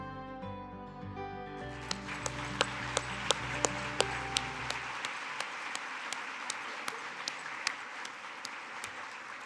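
A conference audience at a health plenary session breaks into applause. The dense clapping swells in quickly and then holds steady and fairly loud, with no voices over it.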